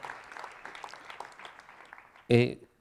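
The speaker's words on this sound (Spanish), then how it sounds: "Le da otro aplauso al Rey, hermano amado." A church congregation claps in a soft, steady patter, faint and somewhat distant, before a sudden loud voice cuts in near the end.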